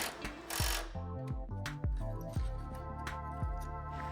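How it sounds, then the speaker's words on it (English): Ratchet tightening a sway bar end link on a Toyota Land Cruiser Prado KZJ90/95 during a lift kit install: repeated sharp metallic clicking pawl strokes in short bursts, close and fairly loud, with no talking. "Now reattach and tighten your sway bar end link."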